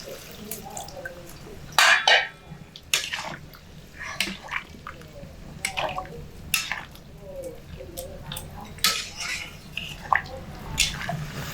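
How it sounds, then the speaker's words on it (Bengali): Hot water is poured into a pot of chicken and potatoes that have been fried down, giving close splashing, dripping and sizzling sounds in uneven bursts with some kitchen clatter. "এবার এর মধ্যে গরম জল দিয়ে দিচ্ছি পরিমাণ মতো।"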